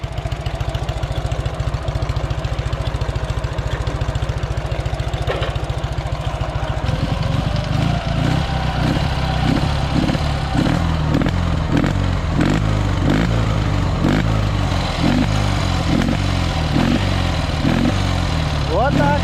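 A Dnepr MT-11 motorcycle engine idles with a steady low thrum, then pulls away in first gear with a chugging, pulsing exhaust beat under throttle, loud and close while someone talks over it.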